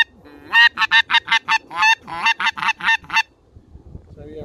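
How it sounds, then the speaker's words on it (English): A rapid series of about a dozen goose-call honks, loud and close, in a quick clucking rhythm with a brief pause midway, then quiet. "Some goose calls."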